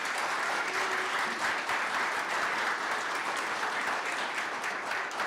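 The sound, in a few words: audience applause for graduate students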